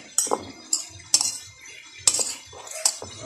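Cucumber salad is tossed with utensils in a bowl, giving sharp, close metal clinks and scrapes at an irregular rhythm with quiet pauses between strokes.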